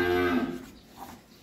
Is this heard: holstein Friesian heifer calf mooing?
yes